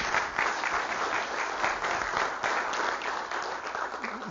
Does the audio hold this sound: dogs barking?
no